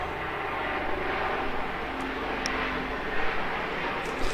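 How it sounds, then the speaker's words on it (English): A helicopter passes steadily overhead, a continuous broad engine and rotor roar at moderate loudness with no talking over it. "Can hear the chopper going by there."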